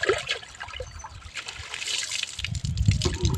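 Water poured out into a ground pit outdoors, a steady splashing trickle with gurgling pulses that thicken toward the end, heard close and alone.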